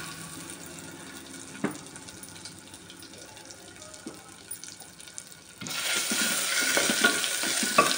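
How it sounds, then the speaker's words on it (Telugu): Ginger garlic paste with cinnamon and cloves fries in hot oil, a faint crackle with occasional stirring taps that swells into a loud, hissing sizzle partway through. "కొంచెం పచ్చివాసన పోయేదాకా వేయించి"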